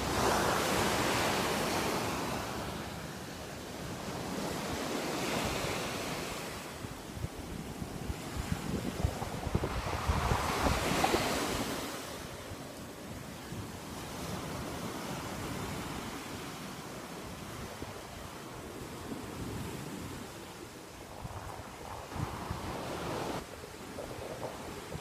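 Ocean waves wash onto the beach at Half Moon, Jamaica, in slow rolling surges that swell and fade every few seconds over a steady wash of surf and wind, with no voices.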